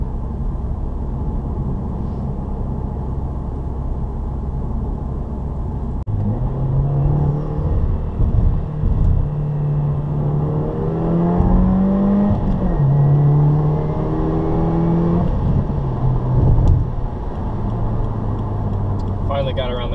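2015 Subaru WRX engine heard from inside the cabin while driving, a low steady rumble that rises in pitch through several gear pulls and shifts. Someone talks over it for much of the time.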